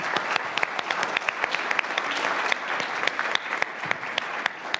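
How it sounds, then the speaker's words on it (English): Audience applause for panelists at a community health equation power breakfast event, steady, lively clapping from a moderate crowd with distinct individual claps standing out, continuous for several seconds. "Let's give them a big round of applause for being here today."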